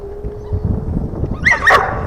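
A puppy barks twice in quick high yips close by, after low rustling and handling noise.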